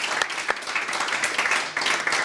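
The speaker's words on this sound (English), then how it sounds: "I think that deserves an amazing round of applause" Studio audience at a live laser eye surgery health show giving a loud, dense round of applause that holds steady throughout.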